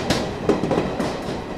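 A Garib Rath Express rushing past Ramagundam railway station, a broad steady rumble of rail cars with faint clattering wheel beats, heard from on board at moderate level with no voices.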